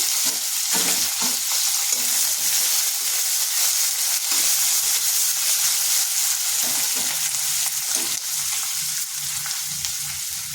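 Long-sliced onion sizzles steadily in hot oil with five-spice and dried chilli, giving a loud, continuous crackling fry for the whole stretch, with occasional stirring scrapes and no talking.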